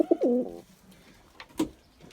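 Bango pigeons coo close by in a short burst of two or three throaty calls at the start, followed by quieter rustling and a brief soft coo near the end.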